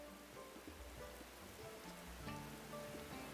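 Rain falls in the survival strategy game Sapiens, a soft, steady patter on the ground, faint and continuous, with light tonal game music layered underneath.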